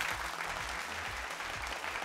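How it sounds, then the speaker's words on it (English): Applause for a team captain stepping forward at a school quiz competition, a steady mid-sized clapping that runs evenly through the whole short stretch without voices. "Let's give her a big round of applause."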